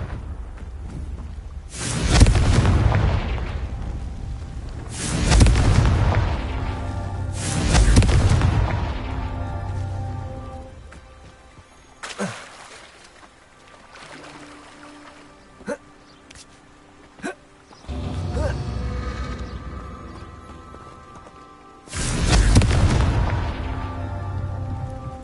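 Confringo blasting spells striking rocks in Hogwarts Legacy: five heavy booming explosions with rumbling decay, spaced a few seconds apart, plus a couple of sharp small cracks in a quieter stretch between them.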